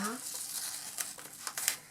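Short crinkly tearing and crackling sounds of tape being peeled off an envelope, close and quiet, a few brief rustles of something being pulled apart.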